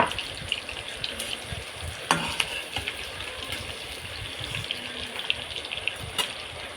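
Onion and a little garlic go into hot oil for a fish tenga curry, producing a faint, steady sizzle with scattered sharp crackles and pops.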